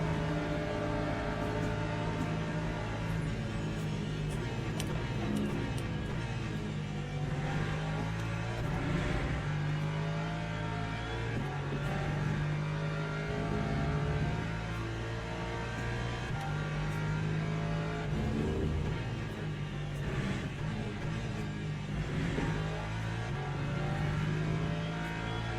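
LMP2 prototype race car in the Le Mans Ultimate racing game, engine droning loudly and continuously with shifting revs, a steady, close mechanical roar that runs unbroken with no voices.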